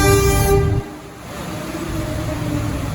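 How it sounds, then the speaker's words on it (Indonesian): An arriving Airlangga passenger train at an Indonesian station sounds a loud, sustained horn that cuts off abruptly, followed by a steady rumble of the cars rolling in close by. "Akhirnya kereta yang saya tunggu-tunggu datang."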